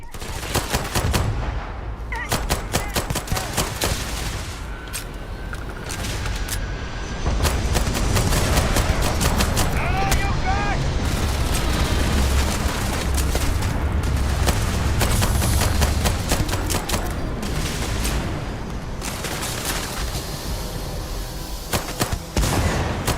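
Gunfire in the video game Starfield: sustained bursts of rapid shots and heavy booms, loud and dense throughout, with a brief voice early on.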